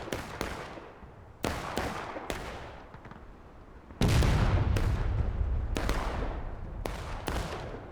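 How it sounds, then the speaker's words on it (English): A cannon and rifle volleys in a Civil War battle video game: repeated sharp gunshot cracks through the first half, then a heavier booming blast with a long rumbling tail, followed by more scattered shots. "First cannon shot I've heard all game."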